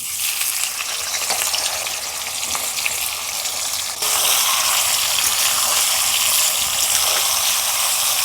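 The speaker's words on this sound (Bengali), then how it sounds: "এবার আমি এঁচোটা ভেজে নেব তেলটা গরম হয়ে গেছে" Young jackfruit sizzles and crackles in hot oil, a loud continuous frying hiss that intensifies partway through, with no voices.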